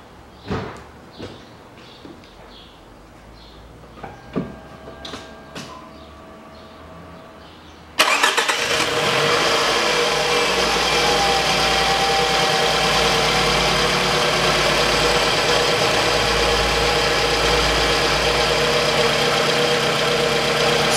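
A 2003 Toyota Harrier engine fired up after a valve cover gasket and spark plug replacement: quiet clicks and shuffling, then a sudden loud catch into a steady, even idle that runs on nearby without talk.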